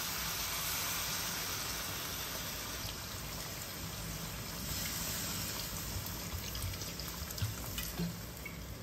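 Water poured into chicken gravy simmering in a pan, a steady broadband pouring and sizzling rush that holds at an even level, close and loud, with no voices.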